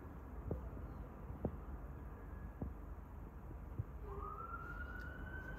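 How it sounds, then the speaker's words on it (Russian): A distant fire engine siren wails upward through steady city hum in Dublin at sunrise, with a few soft clicks earlier; the rising tone is faint and far off. "Там уже пожарная куда-то торопится с самого утра."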